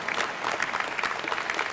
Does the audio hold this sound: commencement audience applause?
yes